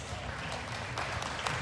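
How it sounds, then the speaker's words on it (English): Crowd applause for exhibitors at a junior market barrow livestock show, a soft, steady patter of clapping heard from a distance for a short stretch. "Let's go ahead and give all those exhibitors a nice round of applause."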